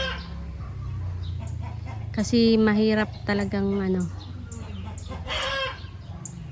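On a hot day on a farm, chickens resting in the shade cluck and a rooster-like crow rings out in a few drawn-out calls, close by, alongside a person speaking over a low steady hum.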